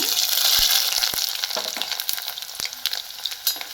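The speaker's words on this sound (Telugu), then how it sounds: "ఆయిల్లో వేసుకొని ఇలా ఫ్రై చేసుకోవాలి అల్లం" Ginger fries in hot oil for a long-keeping ginger chutney, with loud, close sizzling and spattering plus a few sharp pops and scrapes as the pan is stirred.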